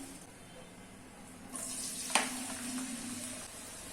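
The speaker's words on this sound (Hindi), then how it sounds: "अभी इसमें 5 फाइनली चॉप किए हुए ऑनियन ऐड कर लेना है" Finely chopped onions dropped into hot oil in a kadhai, a sizzle that rises abruptly midway with a sharp splash, then a steady moderate frying hiss to the end; no talk.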